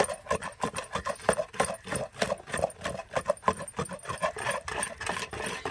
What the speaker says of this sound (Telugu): ఇప్పుడు మళ్ళీ మొత్తం కలిసేటట్టు అయితే రుబ్బుకుంటున్నామండి